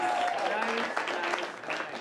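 Live comedy show audience applauding, a brief burst of clapping from the crowd heard under a voice talking.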